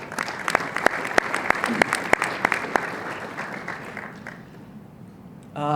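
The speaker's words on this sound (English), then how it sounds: "So let's give them, everybody here, a round of applause" Luncheon guests at a golf awards event applaud the Iowa PGA staff, a moderate burst of clapping with distinct nearby claps that fades gradually before a voice starts at the end.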